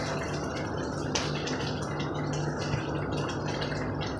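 Sweet soy sauce and oil pour into a pot for Javanese tempe bacem, giving a continuous wet, dripping trickle that stays steady and close with a faint low hum underneath.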